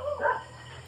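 A household dog barks in short, moderately loud bursts somewhere in a home during a family meal, with a low steady hum beneath.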